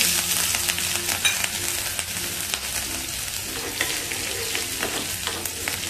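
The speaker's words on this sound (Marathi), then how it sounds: "ह्या कमी तिखट 2 मिरच्या अशा बारीक चिरून घेतल्यात त्या ह्याच्यामध्ये घालूया" Loud, continuous sizzle and crackle of finely chopped green chillies frying in hot oil for a chutney tempering, with occasional stirring scrapes and pops, close up.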